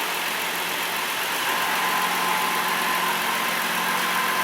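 A Hyundai Sonata engine idles steadily with the A/C switched on, a loud, even mid-pitched hum with a faint whine, close to the mic and uninterrupted by talk.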